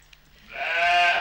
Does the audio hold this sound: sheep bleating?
yes